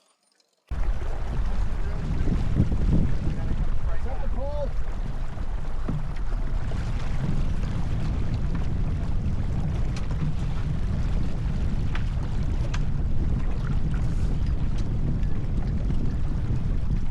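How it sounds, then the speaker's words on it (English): Steady, loud wind roars across the microphone in a sailboat race on open water, a constant low rushing that fills the whole stretch with little change. "And the breeze is back right now"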